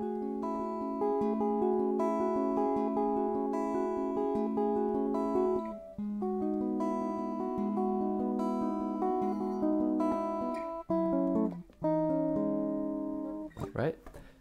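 Fingerpicked acoustic guitar chords, ring finger and thumb plucking together, ring out with sustained, overlapping notes in a steady pattern, close and clear, ending in a few fumbling noises.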